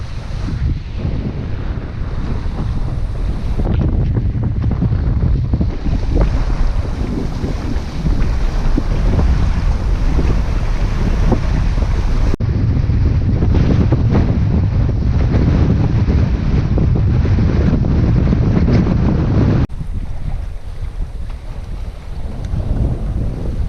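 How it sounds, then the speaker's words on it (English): Wind blows hard across an inlet near Kodiak, Alaska, a steady roaring buffet of gusts over the microphone with water lapping beneath, continuous throughout with no voices. "Still plenty of wind, but it's coming straight across the inlet"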